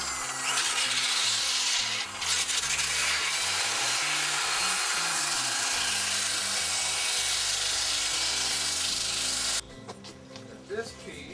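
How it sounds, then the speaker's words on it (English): Sandpaper rubs a balsa wood surfboard smooth in continuous, close back-and-forth strokes, a loud, hissing abrasive scrape that stops near the end, leaving quieter handling sounds. "I'm just gonna sand it smooth"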